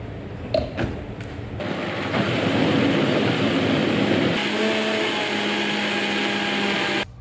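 A blender whirs as it purées butter and crème fraîche, a loud steady motor drone that starts after a couple of sharp clicks and runs continuously before cutting off at the end.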